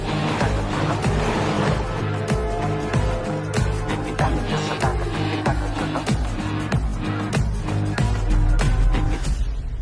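Cars race into a subway in an action-movie chase, engines roaring loud and continuous with tire squeals, skids and sharp impacts layered throughout, a dense cinematic mix with no talk.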